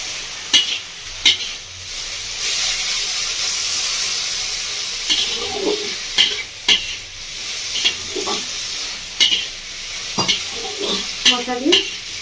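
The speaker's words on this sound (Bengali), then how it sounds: "মশলা দিয়ে 1 মিনিট মতো নাড়াচাড়া করে নিচ্ছি" Greens fry and sizzle in a pan for a village-style shrimp dish, a steady hiss running throughout, and a spatula periodically stirs and scrapes them together with spices at close range.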